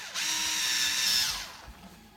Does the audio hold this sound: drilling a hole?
yes